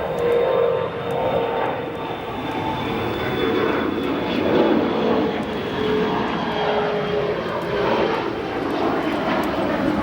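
Boeing 767 airliner landing at O'Hare Airport on a windy day, a steady, broad engine roar at moderate distance with no talking.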